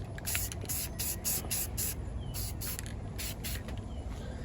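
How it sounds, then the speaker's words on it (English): Short hissing bursts of a black spray paint can coating model train rolling stock parts, about a dozen quick sprays in an uneven rhythm, close and fairly loud over a low background rumble. "You use any kind of favorite black spray paint. Just give it a nice coat."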